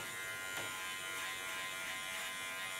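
Electric hair clipper buzzing steadily with its blades run up the back of the head while trimming a bob with a nape shave, a close, continuous mechanical drone with no talking.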